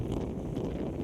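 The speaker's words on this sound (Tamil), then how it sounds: "காற்று பாருங்க சுசுன்னு அடிக்குது" Wind blows through the forested Bargur hills near Erode, buffeting the microphone with a dense low rumble that stays constant for a brief moment.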